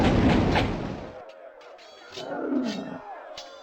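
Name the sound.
volley fired by units in Warhammer: Shadow of the Horned Rat video game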